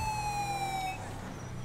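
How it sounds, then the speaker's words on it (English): A police car siren in the LSPDFR video game wails with a steady high tone for about a second, then drops away, leaving a low engine-like rumble with no one speaking. "there is that same charger running his siren still"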